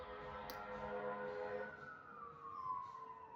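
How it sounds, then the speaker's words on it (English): An emergency vehicle siren wails outdoors at a distance, a steady tone that then glides downward, faint against the background, with no one talking. "And there's sirens out there"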